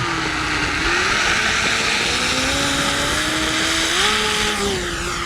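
An E-flite V1200 RC plane takes off with a loud, steady propeller whine and droning motor, the pitch rising and shifting as it climbs away close by, without talk.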